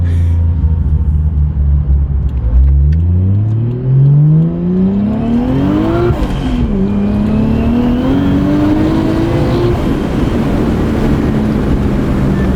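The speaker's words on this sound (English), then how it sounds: "It's a very loud exhaust." A loud turbocharged JZX100 Chaser exhaust roars close by, rising sharply in pitch as it accelerates, dipping at a shift, then climbing again.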